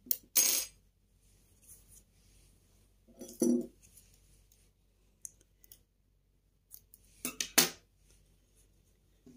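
Scissors cut knitting yarn after a garter-stitch sleeve is finished, giving three short, crisp snips spaced several seconds apart in an otherwise quiet room.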